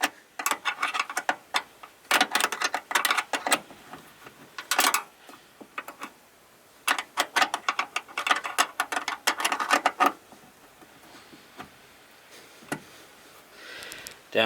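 A wrench works a bolt while a Cadillac XTS light is being replaced, producing bursts of quick, close metallic ratcheting clicks separated by short pauses.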